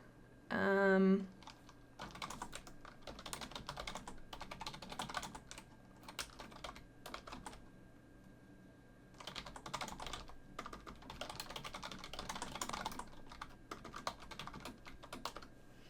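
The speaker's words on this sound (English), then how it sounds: "we'll type down here in this box" Computer keyboard typing in short bursts, entering a note into a text box, with a pause between two stretches of clicking; a brief voice is heard near the start.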